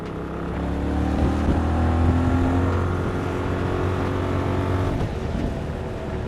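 A Yamaha MT-07 motorcycle engine runs steadily and close by while riding on a road, its drone rising and easing through smooth gear changes, with no talking over it.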